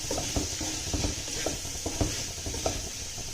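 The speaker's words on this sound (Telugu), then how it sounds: "మంచిగా మసాలాలు అన్నీ పట్టేంత వరకు ఫ్రై చేయాలి" Whole spices and cumin powder frying and being stirred in a pan for veg dum biryani, with a steady sizzle and repeated scraping strokes of a spoon about every half second, close and moderately loud.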